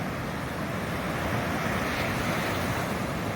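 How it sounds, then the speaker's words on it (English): Ocean surf at sea with waves breaking into white water, a steady broadband roar and wash, fairly loud and unbroken, with some wind buffeting and no talk. "There's a surf on the wave."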